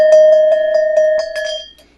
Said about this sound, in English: You can never really have enough cowbell.